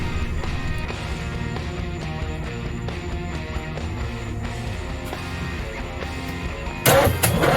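A Camaro street car's engine is cranked over and over in a steady, rhythmic churn, then a sudden loud burst near the end as it catches or pops.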